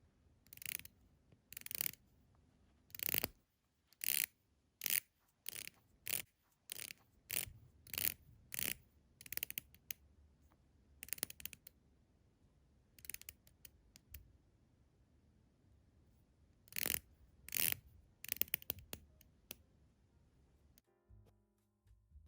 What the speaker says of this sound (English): the watch with the most satisfying bezel action that I have ever handled